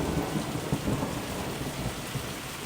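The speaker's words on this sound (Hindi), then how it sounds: "बिजली कड़कती है, भारी बारिश होती है।" Heavy rain pours steadily with deep rumbles of thunder rolling underneath, a dense continuous storm sound with no voices.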